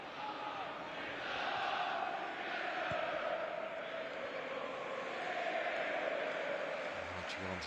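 Football crowd in the stands at the Aviva Stadium in Dublin, Leeds United supporters singing their club anthem during a pre-season friendly against AC Milan, a steady distant mass chant swelling under the noise, with a commentator talking over it.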